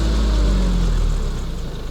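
A low engine rumble of a weeding machine winding down, the pitch and level easing off as the revs drop over a couple of seconds.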